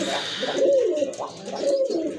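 A short-faced pigeon coos nearby in soft, repeated throaty rolls, with a faint voice in the background.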